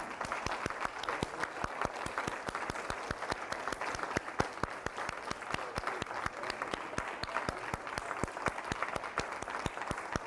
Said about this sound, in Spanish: Demos un aplauso al Señor, pero bien grande.